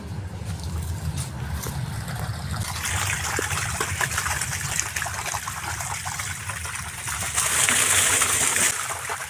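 A motor-driven water pump starts up and water gushes and splashes out in a steady rushing flow, close and loud, with a brief faint voice in the background.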